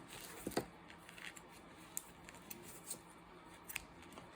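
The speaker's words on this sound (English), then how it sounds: "So let me cut this piece of yarn" Scissors snip through a piece of pink yarn in a quiet indoor craft setting: a few soft, crisp cuts, close and faint, with a double snip near the start and scattered single snips after.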